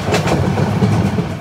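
The Parjatak Express from Dhaka to Cox's Bazar runs at speed, with a loud, close, steady rumble and rhythmic clickety-clack from the wheels, heard from inside the train.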